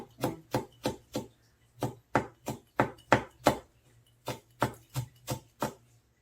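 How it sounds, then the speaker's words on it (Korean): Hot chili peppers are sliced with a knife for a perilla-leaf braise: about sixteen crisp, close knife strikes in quick bursts, with brief pauses between runs and no talking. "고추가 이렇게 있으니까 그냥 요거 송송 썰어서 넣을게요"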